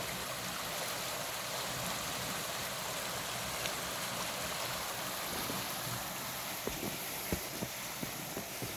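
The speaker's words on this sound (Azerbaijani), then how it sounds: "Bir dənə də mini şəlaləsi var." Water rushes over a small waterfall in a village stream, a steady broadband roar close by and constant throughout, with a few faint knocks near the end.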